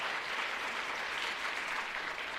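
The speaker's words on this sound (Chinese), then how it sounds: "咱搁一摆用掌声来" A church congregation at a Sunday worship service claps together in a sustained, even round of applause, moderately distant and filling the hall throughout.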